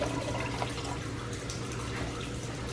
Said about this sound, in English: so I'm going to add some water to that.